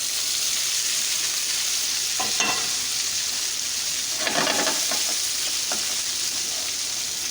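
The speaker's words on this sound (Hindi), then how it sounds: "अब इसमें हम अपने कबाब डाल देंगे।" Gola kebabs frying in hot oil in a pan, a steady loud hiss and sizzle throughout, with a few brief crackling bursts and utensil movements partway through, close and with no one speaking.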